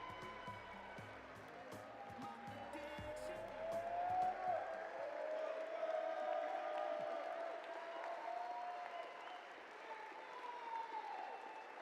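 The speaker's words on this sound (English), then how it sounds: "how about a round of applause for the graduating student athletes" Applause at a university athletics stole ceremony honoring graduating student athletes, a distant, broad wash of crowd clapping and cheering that swells and lingers for several seconds, with a whistle-like tone rising through it.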